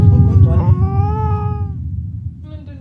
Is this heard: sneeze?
no